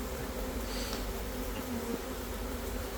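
A swarm of bees on poles produces a continuous, dense buzzing hum, steady and fairly close, with no other sounds.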